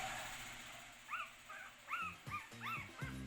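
A dog gives several short high whimpers and yips in a row, then lower muffled barks, close and fairly quiet over a steady background hum.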